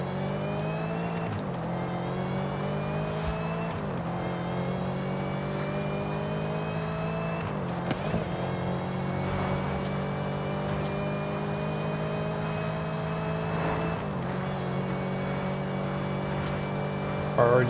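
A modified Exorcist car in Forza Horizon 5 accelerates hard and steadily, its engine note climbing through each gear with sharp breaks at the shifts, loud and close for the whole stretch with no talk.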